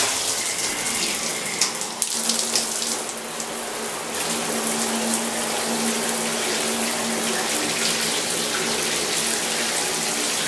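Steady hiss of a newly installed tub shower running continuously nearby, with no talking.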